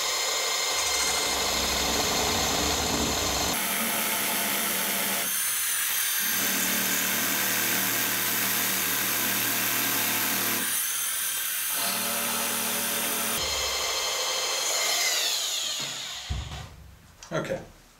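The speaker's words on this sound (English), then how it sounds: "Let's take 2 passes with the power scraper." A power scraper works an adjustable angle plate in a workshop, a loud, continuous high-pitched buzzing whine in two long passes separated by brief pauses, close up, with a brief voice near the end.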